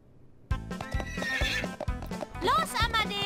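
A horse whinnies loudly in the Bibi und Tina video game, repeated neighs over rhythmic clip-clopping hooves, close and full, with a high neigh rising near the end.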